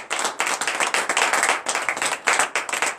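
A church congregation at a Saturday morning prayer service bursts into loud, sustained clapping in acclaim, many hands beating in fast uneven pulses close by.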